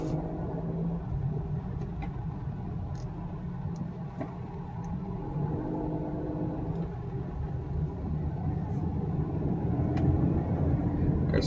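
A 2003 Infiniti I35 sedan with 86K miles drives along, its steady engine and road rumble filling the cabin at a constant level with a few faint clicks and no speech.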